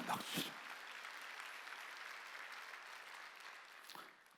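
Applause from a church congregation at a Sunday worship service, a steady broadband wash of clapping that holds for several seconds before tapering off, with a brief voice at the start.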